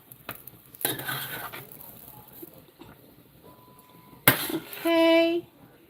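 Spoon scraping through ground meat and onion in a pan on the stove, soft and intermittent, followed by a sharp clatter and a brief electronic tone; a faint voice is heard in the background.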